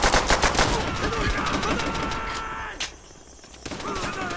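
Rapid bursts of machine gun fire from bunkers in the World War II shooter World at War, loud and continuous with dense rattling volleys, briefly easing before resuming, with battlefield shouting underneath.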